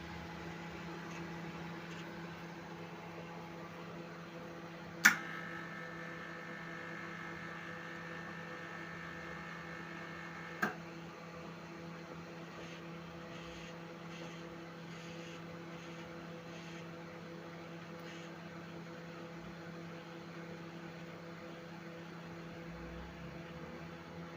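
A Saturn ST-MW7179 microwave oven runs with a steady low hum and whir, interrupted by two sharp clicks several seconds apart as a tone briefly changes in between, the whole sound quiet and close.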